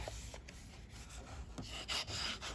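A hand rubs along a folded crease on a handmade notebook cover, giving soft, quiet rasping strokes against a steady background hum.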